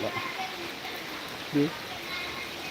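Steady rushing of floodwater flowing under a slab during heavy rain, a continuous wash of noise with a brief voice sound breaking in midway.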